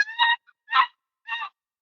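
Three separate raspy, honking yelps spaced unevenly, with gaps of silence — a voice imitating a lower, slower male turkey call, close up.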